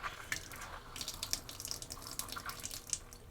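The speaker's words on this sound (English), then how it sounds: "go to your galley faucet and bleed off the pressure from the hot and cold side" Water running from the galley faucet of a Strada or Terreno RV as pressure is bled off, a steady splashing stream into the sink with small droplet spatters throughout.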